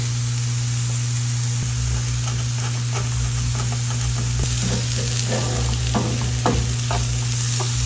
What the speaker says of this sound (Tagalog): Paglagay tayo ng oyster sauce, konting patis, konting seasoning, and gisa-gisahin natin.